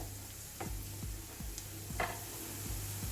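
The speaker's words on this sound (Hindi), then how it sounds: "प्याज को हमें गोल्डन ब्राउन होने तक पकाना है।" Onions frying in a pan toward golden brown, a steady close sizzle with regular soft scraping strokes of a spatula about every half second.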